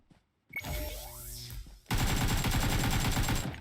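AK rifle fire in PUBG Mobile: a short early shot and rattle, then a sustained rapid automatic burst of close, loud, evenly spaced cracks that runs for nearly two seconds.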